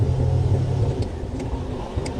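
A car driving through heavy rain, heard from inside as a steady low engine rumble and road drone with a few faint taps on top, close and continuous.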